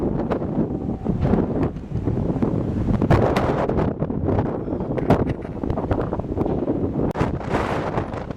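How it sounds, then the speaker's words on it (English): Wind buffets the microphone in a continuous, gusty roar throughout, loud and close, up high beside a chapel in Europe, with no voices. "It's really windy up here."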